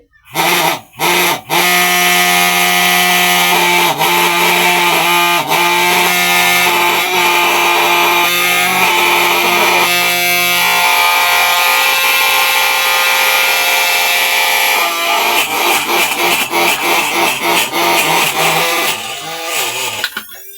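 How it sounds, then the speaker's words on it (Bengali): A homemade blender machine built around a small motor runs continuously at high speed, a loud steady whine with shifting tones, after a few brief starts at the beginning and a sputtering finish near the end. "আমাদের মেশিন কত স্পিডে ঘুরতেছে"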